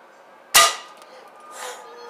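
A Gamma rocket strikes an ice cream truck in a destruction game, a single sharp metallic bang followed by a short ringing decay and a fainter rattling clatter about a second later.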